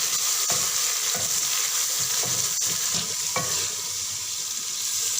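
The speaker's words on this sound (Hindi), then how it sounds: "अब हम इसमें ऐड करेंगे लहसुन अदरक का पेस्ट और इसको हल्का सा ब्राउन करेंगे।" Garlic ginger paste frying with onions in a pan for kadhi pakora, a steady loud sizzle with occasional stirring scrapes.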